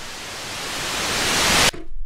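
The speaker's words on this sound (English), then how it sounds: "we've got just white noise going up in level, but there's nothing changing to the timbre of the pitch" White noise riser synthesized in Serum, a broad hiss that swells steadily louder for about 1.7 seconds, then cuts off abruptly into a brief quieter low rumble.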